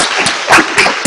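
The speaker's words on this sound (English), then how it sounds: "that applause can't go on long enough" Applause from a crowd, a dense wash of clapping with a couple of louder swells, fairly close.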